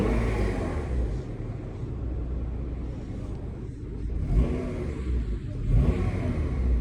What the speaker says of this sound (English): when I rev it up, it goes up higher than it used to.